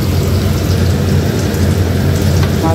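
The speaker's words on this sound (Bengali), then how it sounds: "এই যে ভাত ফুটছে" Rice boils in a pot on a gas stove with a loud, dense, continuous bubbling rush, close and unbroken throughout.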